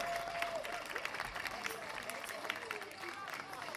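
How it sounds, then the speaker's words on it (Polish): A concert audience in Michałów claps for a band. Dense, continuous applause fills the whole stretch, with a faint murmur of voices in the crowd. "wielkie brawa, wielkie oklaski dla nich"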